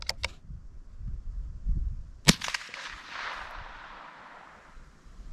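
A Marlin 39A rifle with a new firing pin fires a round: one sharp, loud crack with a short ringing tail, preceded by a couple of fainter clicks.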